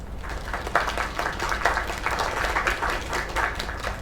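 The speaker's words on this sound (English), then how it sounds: "Another round of applause." An open mic night audience applauds steadily, a dense wash of clapping that holds at an even level throughout without any voices.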